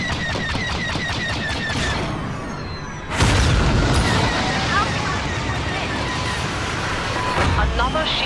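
Shield generator exploding in the space battle game Star Wars Battlefront II, a loud boom midway amid continuous blaster fire and combat noise, with game voice lines heard over it.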